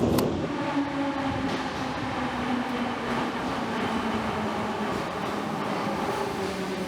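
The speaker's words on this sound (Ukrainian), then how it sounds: "хотіла зняти в метро, як прибуває поїзд в метро" A metro train pulls into Arsenalna station in Kyiv, a loud sustained rumble and rising whine of wheels and motors filling the underground platform with no talk.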